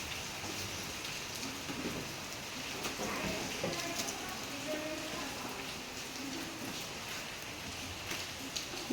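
Rain falls steadily outside a house, a soft continuous patter with scattered drips, while voices talk quietly underneath.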